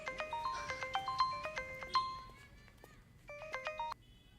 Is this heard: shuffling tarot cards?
no